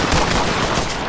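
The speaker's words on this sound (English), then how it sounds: "You're fucking shooting me." Rapid automatic gunfire in the tactical shooter Ready or Not, a dense continuous burst of loud shots filling the whole moment with no pause.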